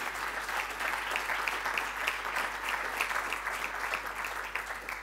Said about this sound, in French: je crois qu'on peut tous les applaudir